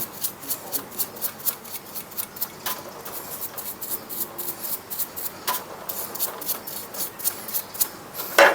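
A stiff-bristle brush scrubs caked-on dirt off a Honda Wave 100 motorcycle in quick, steady back-and-forth strokes, close and fairly loud, with no voices.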